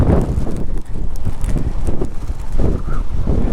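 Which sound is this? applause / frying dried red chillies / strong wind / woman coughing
strong wind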